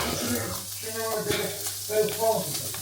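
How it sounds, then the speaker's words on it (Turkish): Food frying in a pan during a weekend home visit, a steady close sizzle with some stirring throughout, while voices talk over it. "Şimdi kızartacak bakalım."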